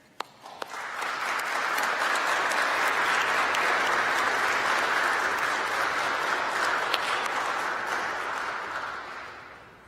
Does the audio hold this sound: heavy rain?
no